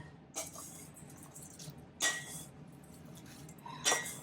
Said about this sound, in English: we're going to go ahead and mix everything up